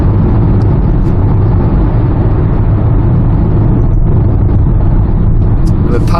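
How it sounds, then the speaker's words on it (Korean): A 2019 Hyundai Tucson with a gasoline turbo engine accelerates up a slight incline, its steady, loud engine drone continuous throughout with voices talking over it. "여기는 평지지만 약간 오르막인데 지그시 한번 쭉 밟아보셔도 틀려요."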